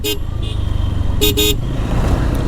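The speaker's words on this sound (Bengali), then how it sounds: "আমার ভিডিওতে আপনারা যে হর্নের আওয়াজ শুনে বিরক্ত হইতে পারেন" Several vehicle horns honk on a mountain road, with short bursts at the start and a pair of louder blasts in the middle, heard over a steady engine rumble from a motorcycle ride.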